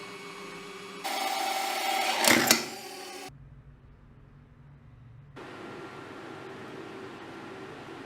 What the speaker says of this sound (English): We drill a hole.